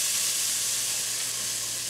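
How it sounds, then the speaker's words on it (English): Chicken vindaloo curry made with Carolina Reaper peppers sizzles steadily in a hot pan while being stirred, a continuous bright frying hiss with no talking. "And then stir this around a little bit longer"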